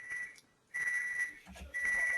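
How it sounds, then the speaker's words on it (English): An oven timer beeps in steady, high, pure-tone bursts, each lasting most of a second with short gaps between, heard at moderate distance in a quiet room with no talk. "it's my oven going off"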